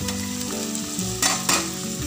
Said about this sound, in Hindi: अब हम इसको थोड़ा सा पकाएंगे, ज़्यादा नहीं, बस हल्का पिंक कलर होने तक पकाएंगे।